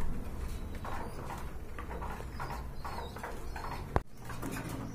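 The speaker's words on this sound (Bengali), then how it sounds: "এটা কিন্তু পাকিস্তানি টেডি কবুতর।" Pakistani teddy pigeons, a matched breeding pair, coo softly amid a busy bird market with other birds and a low murmur of people, and a sharp knock lands near the end.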